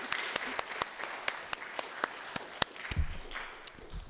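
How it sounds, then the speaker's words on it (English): An audience at a church-style gathering claps in a light, scattered round, with individual sharp claps standing out close by over a softer background of hands. "the rest of us, hearty round of applause"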